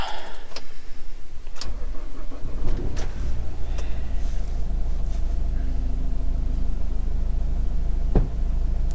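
A cheap, high-mileage Nissan Qashqai engine cranks and catches, then settles into a steady low idle rumble, with faint clicks and a voice in the background.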